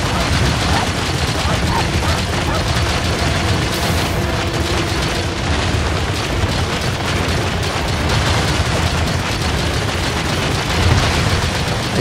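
Dense, continuous gunfire and explosive bursts from the video game Monster Hunter Rise Sunbreak as flying orbs are shot down, loud and unbroken throughout.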